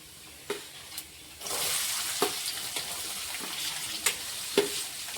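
Chopped onions hit hot oil with mustard seeds and cumin, setting off a sudden, bright, continuous sizzle partway through, with a few sharp clicks of a spoon against the pan before and during the frying.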